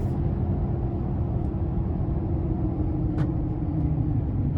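A 2024 GMC Sierra 2500 AT4X with a 6.6 turbodiesel V8 drives unloaded, giving a steady, deep low rumble of engine and road noise heard from inside the cab.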